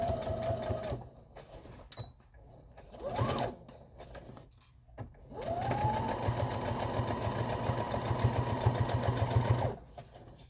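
Sewing machine stitching a denim bucket hat: short bursts of whirring at first, then one long steady run of close, fast stitching before it stops.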